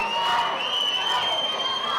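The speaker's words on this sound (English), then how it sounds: "This crowd egging him on." Wrestling arena crowd at a live pro wrestling match, a steady dense roar of cheering and shouting voices that stays loud and continuous throughout without a break.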